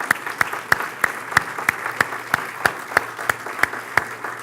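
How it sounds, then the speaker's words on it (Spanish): A church congregation claps in unison, sharp evenly spaced beats roughly three per second over a soft room background, no voices on top. "Dale un aplauso al Señor."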